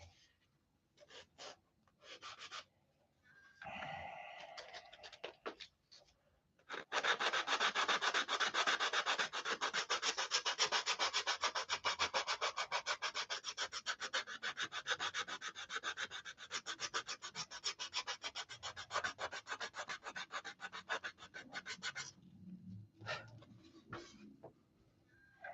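Wood is hand sanded in long, fast, rhythmic scratchy strokes, close and continuous for about fifteen seconds after a few short, tentative rubs.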